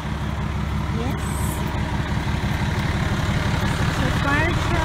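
A fire truck and an ambulance idle on an apartment street, a steady low rumbling throb that carries throughout, close and even, with a voice talking over it.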